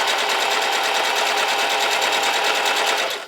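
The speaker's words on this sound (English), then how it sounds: "Now I'm going to sew all the way to the end." Singer Heavy Duty sewing machine running steadily while stitching a seam, a continuous close, loud rapid mechanical whir with a fast even needle rhythm, alone with no voices.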